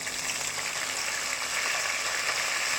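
Green chilies and curry leaves sauté in oil for a fish curry, giving a steady, even hiss of frying at moderate loudness with no voices.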